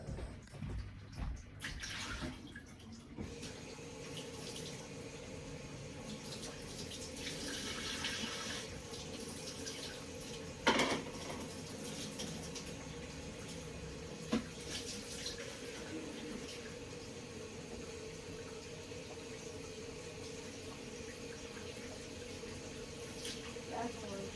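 Hot water runs steadily from a tap, a continuous hiss and splash that goes on throughout, with a few brief knocks partway through.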